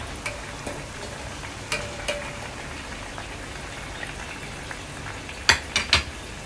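Unripe durian frying in hot oil: a steady, soft crackling hiss with a few sharper pops and spatters near the end, no voices.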